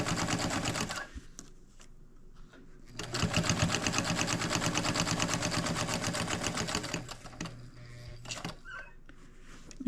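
A sewing machine stitches close along fabric edges for a lined bag, a fast steady mechanical whirr that stops briefly and restarts, with a voice talking faintly at times.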